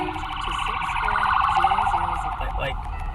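An ambulance siren wails steadily in a Pokémon GO battle, its cycling tone loud and continuous throughout, fading slightly near the end with a brief faint voice.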